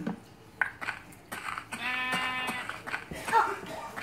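A sheep bleats, drawn out and a little nasal, with brief clicks and game-like sounds around it.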